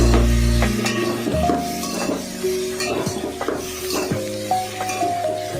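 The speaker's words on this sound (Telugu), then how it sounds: "ఇవన్నీ కొంచెం ఆయిల్లో బాగా మిక్స్ చేసి" Vegetables, bottle gourd and tomato, being stirred in a little oil in a pan while cooking sambar, with clinking utensil scrapes and a low sizzle running through, plus a few sustained tonal hums in the background.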